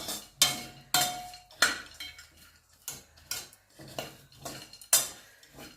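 Chopped pistachios, almonds, cashews, raisins and chironji being stirred in half a spoon of ghee in a kadhai, with a spoon scraping and clinking against the metal pan in repeated close strokes.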